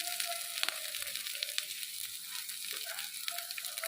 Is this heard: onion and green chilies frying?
yes